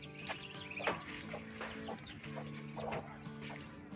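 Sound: chicken clucking

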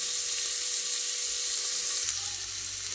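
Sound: onion frying with green chillies in a pan

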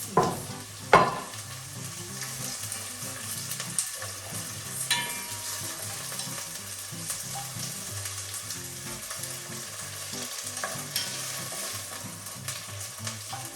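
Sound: onion and garlic frying in hot pot

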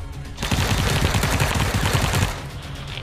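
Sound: gunfire from the video game PUBG

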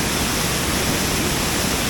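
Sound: waterfall at Jitavane Kumbharwadi, Rajapur

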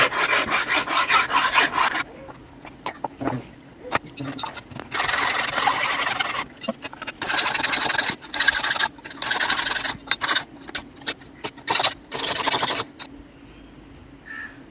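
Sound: filing a ground knife blade with a hand file

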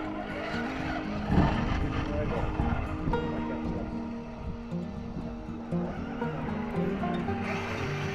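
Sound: RC truck doing a burnout

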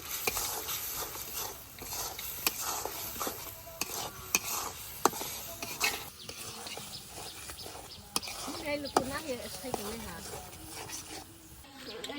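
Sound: spice masala with chili, salt, cumin being stir-fried

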